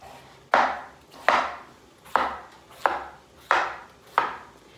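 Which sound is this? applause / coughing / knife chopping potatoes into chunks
knife chopping potatoes into chunks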